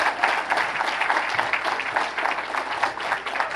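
Sustained applause from a gala audience honoring a man named Roger, dense and steady throughout, with no talk over it.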